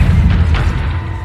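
The Stupefy spell cast in the video game Hogwarts Legacy lands as a single loud, deep boom with a short rumbling tail, alone and without talk.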